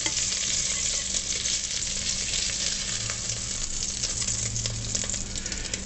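Salisbury steak patties of ground beef fry in a pan with a steady, dense sizzle and crackle that holds at an even level throughout, with no talking.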